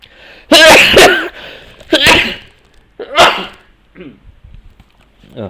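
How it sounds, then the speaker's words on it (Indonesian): A person sneezes loudly several times in a row during an indoor lecture, each sneeze a sharp burst with short gaps between, and quieter sounds trail off afterward. "Sorry, bersin."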